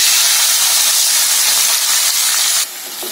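Chopped onions fry with spices over a low-to-medium flame for a village-style mutton curry, giving a loud, steady, close hiss of sizzling oil that suddenly drops in level near the end.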